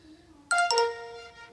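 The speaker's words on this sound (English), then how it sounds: "I had a phone call from Petro." A short melodic phone ringtone chimes in the Mr. President text adventure game, a bright electronic tone that enters abruptly and rings on clearly for about a second, loud and alone.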